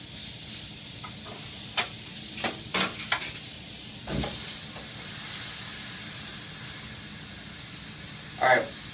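Steak pan-searing in a hot pan gives a soft continuous sizzle and hiss, broken by a few sharp clicks and knocks, with a person talking over it.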